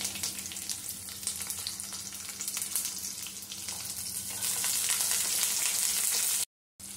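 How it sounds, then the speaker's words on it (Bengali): Chopped onion and garlic frying in hot oil for Schezwan fried rice, a steady close sizzle that grows louder partway through, then cuts out briefly near the end, with no talking. "রসুনটা হয়ে গেছে। এবার আমি এর মধ্যে পেঁয়াজ দিয়ে দিচ্ছি।"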